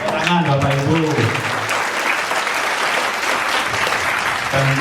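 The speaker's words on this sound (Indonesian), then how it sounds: "Tepuk tangan Bapak Ibu." An audience at a Central Java education aid event claps together in sustained, loud applause, a dense wash of hands filling the whole stretch while a voice speaks over it at the start and end.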